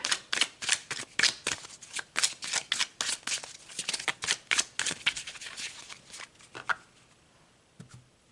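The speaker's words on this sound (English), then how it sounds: "So let's pull some tarot. Let's pull the final card." Tarot cards being shuffled in a rapid run of crisp riffling flicks, close and fairly loud, slowing to a few separate card snaps as one is drawn, with no talk over them.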